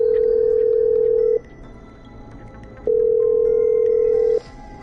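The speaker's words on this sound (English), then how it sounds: "I'm dialing." A telephone in the video game Killer Frequency dials out, giving two long, steady ringing tones separated by a short pause, clean and prominent against a quiet background.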